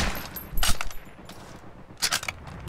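Shots from a weapon without quick reload in the World War II shooter game Heroes & Generals, a few sharp bursts with mechanical clicks and rattles in the quieter stretches between them.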